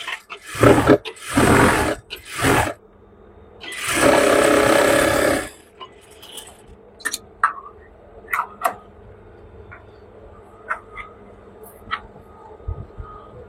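A sewing machine stitches the folded hem of a pajama leg in several loud, close bursts of whirring, then the fabric is handled with scattered light clicks and taps.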